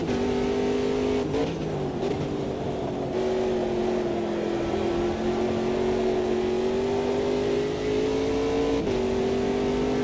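A race car engine in the AMS2 sim racing game holds a sustained high revving tone that dips and climbs with gear and throttle changes, steady and fairly quiet, without speech.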